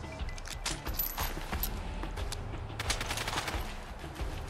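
Enemy gunfire in Fallout London comes as rapid, scattered cracks and pops, close shots mixed with others further off, forming an irregular fusillade over a low rumbling game ambience.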